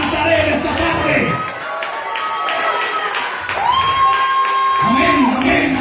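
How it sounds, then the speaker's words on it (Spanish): A church congregation applauds and cheers in a rolling crowd din, with raised voices and sustained tones rising through the noise, then easing off briefly before swelling again. "Y un aplauso a Jesús de Nazaret esta tarde."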